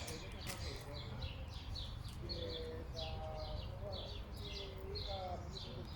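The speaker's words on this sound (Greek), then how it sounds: "Άκουσα μια φασαρία. Ναι, τα πουλιά είναι." Birds chirp in quick repeated bursts amid a steady outdoor rumble, with faint lower calls and occasional voices in the background.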